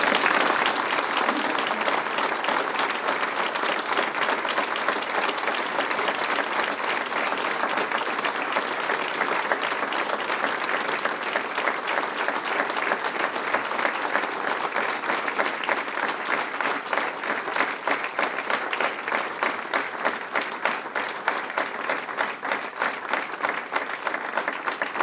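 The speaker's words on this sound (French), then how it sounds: "nos applaudissements." An audience at a 2024 New Year's greetings ceremony for a French community of communes applauds in tribute, a dense, loud, sustained clapping that continues steadily for the whole stretch, close and unbroken by talk.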